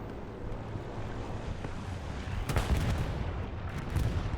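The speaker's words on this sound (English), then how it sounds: "Oh, the explosion. Somebody exploded." An explosion in a competitive team-based war video game match on the Mortain map booms as a low, rumbling burst partway through, over steady battlefield noise and distant gunfire.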